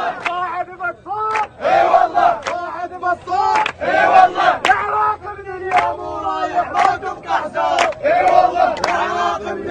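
At an Iraqi street protest, a large crowd chants rhythmic slogans in loud repeated bursts with short gaps between them, voices close and massed together.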